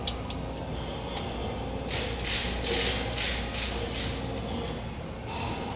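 A ratchet drives OEM exhaust hardware onto studs during a cat-back exhaust install on a 2020+ Corvette C8: quick bursts of metallic clicking come in several short runs, close and moderately loud over faint background noise.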